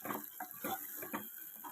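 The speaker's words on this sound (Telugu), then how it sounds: "దీంట్లోనే ఈ గిన్నెలోనే కొంచెం వాటర్ అనేది వేసుకోవాలి." Water is poured into a bowl of paneer curry with yogurt masala, a short, close burst of splashing and trickling with small irregular pulses.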